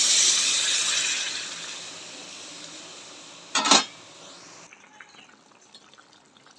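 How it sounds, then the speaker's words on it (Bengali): Hot water is poured into a pan of frying vegetable curry, with a loud hissing sizzle that fades, a brief sharp splash or clank, then quieter bubbling. "সবজিটা কষানো হয়ে গেছে, এখন গরম জল দিয়ে দেবো।"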